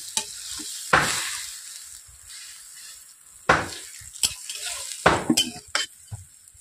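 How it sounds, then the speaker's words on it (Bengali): Water poured into a pan of pumpkin stalks sizzles in a few sharp bursts, with scattered stirring clatter between them. Close by, no voices. "ভালোভাবে আমি জল দিচ্ছি।"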